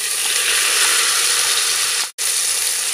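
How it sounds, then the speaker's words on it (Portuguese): Chopped medium onion hitting hot fried bacon and calabresa in a pan, giving a loud, dense, continuous sizzle that briefly drops out near the end before resuming. "Vou acrescentar uma cebola média picadinha,"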